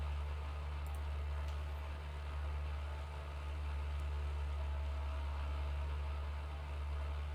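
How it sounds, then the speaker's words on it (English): A simulated light aircraft engine in the Prepar3D v4.5 flight simulator game drones as a steady, low, constant hum throughout, heard alone at moderate-to-faint level. "I do like how at least you can hear the different tone of the engine when you lean"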